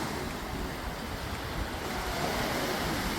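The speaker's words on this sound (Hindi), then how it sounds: "तो ये जुमेरा बीच है" Ocean waves wash steadily at Jumeirah Beach in Dubai, a continuous broadband surf roar with some wind noise, close and fairly loud for the whole stretch with no talking.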